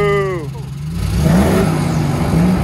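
A Dodge Dakota pickup truck engine revs loudly, rising and falling in a rough mid-pitched drone that fills most of the moment, with a voice briefly heard at the start.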